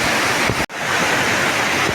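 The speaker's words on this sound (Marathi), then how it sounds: "धबधबा आहे इथनं एक बघायला मजा येईल, जांभूळ काटा धबधबा" The Jambhul Kata waterfall near Savatkada pours in a steady, loud roar of rushing water with no voices, dipping to silence for an instant before the roar returns.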